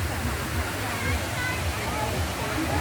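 River water from a branch of the Achankovil rushes steadily and fairly close, a continuous broadband wash with a low churning rumble, while faint voices sit underneath.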